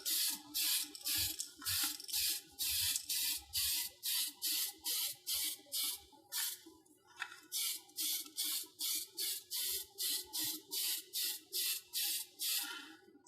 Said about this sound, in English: Start spraying over this.